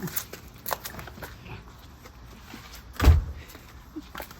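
A door opens and knocks shut on the way out to a Texas garden, a sharp thump about two-thirds through, with lighter clicks and shuffling sounds before it.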